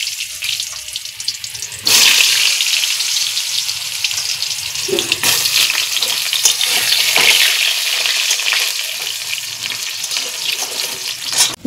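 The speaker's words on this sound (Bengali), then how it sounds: "এখন আমরা এতে এই আলুগুলো ভেজে নেব" Potatoes frying in hot oil in a home kitchen, a loud, steady sizzle that jumps up sharply around the two-second mark and keeps crackling throughout, with occasional stirring scrapes and no talk.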